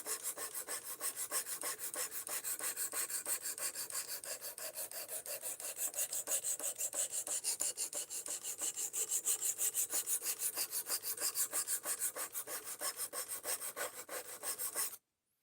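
A knife blade being sharpened by hand, a steady rhythmic rasping of rapid back-and-forth strokes, close and fairly quiet, continuing alone until it stops abruptly near the end.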